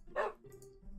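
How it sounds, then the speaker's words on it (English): A dog in the video game Minecraft gives one short, faint bark, followed by a quiet whine. "Is this a live dog?"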